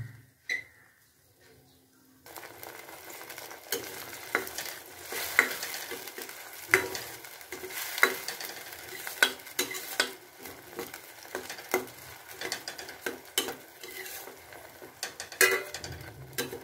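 A paste of tomato, chili, ginger and curry leaves sizzles in a pan while a spoon scrapes and stirs it in repeated clinks and scuffs, loud and close, after a quiet start.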